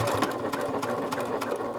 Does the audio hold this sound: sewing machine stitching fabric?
yes